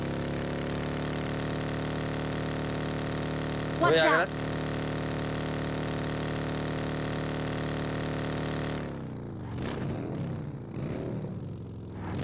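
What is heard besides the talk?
motorbike engine in a video game (BGMI)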